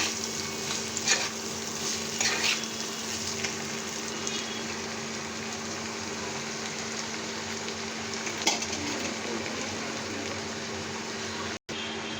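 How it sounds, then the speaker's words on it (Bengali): Cabbage stir-frying in a pan: a steady sizzle with a few brief scraping stirs near the start and again later, moderately close, no speech. "এখন বাঁধাকপিগুলো দিয়ে দিচ্ছে সবগুলো একসাথে দেবো না অল্প অল্প করে দেব এখন একটু নেড়ে চেয়ে দিচ্ছি"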